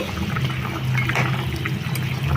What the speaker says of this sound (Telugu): కారం వేయకముందే నీళ్లు వేసుకొని ఇలా ముక్క అనేది ఉడికించుకోవాలి